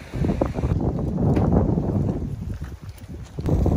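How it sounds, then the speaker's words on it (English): Strong wind buffets the microphone in rumbling gusts, low and close, with no talking, at the Ocracoke Island Light Station, North Carolina. "It's really windy today."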